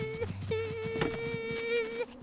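A steady, close buzz of bees in a cartoon drones almost continuously, breaking off briefly near the start before resuming at an even pitch.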